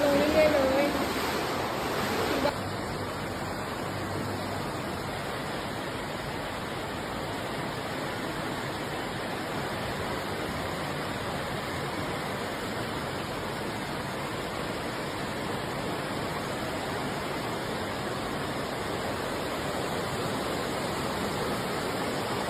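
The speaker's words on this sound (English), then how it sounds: "The rainfall, measuring approximately 100 mm, caused heavy water flow in low-lying areas" Floodwater flowing through low-lying areas after heavy rainfall in Thailand, a steady broadband rushing wash that continues evenly throughout, with a brief louder disturbance at the start.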